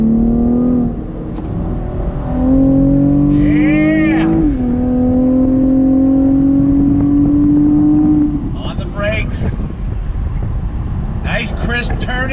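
A 2021 Chevrolet Camaro RS convertible accelerates on throttle from inside the cabin, its engine note climbing steadily through the rev range with a brief shift dip, then easing off; a voice speaks near the end.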